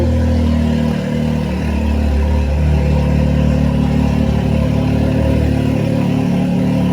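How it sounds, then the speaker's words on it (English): A Can-Am X3 off-road vehicle engine idles steadily and loudly, a constant low rumble that holds without revving for the whole stretch. "we're gonna be able to turn the engine on for a couple of minutes"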